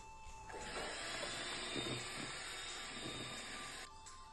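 An electric mixer beats eggs with sugar for banana cake batter, making a steady whirring hiss that starts abruptly, holds for a few seconds and then cuts off, with no talking.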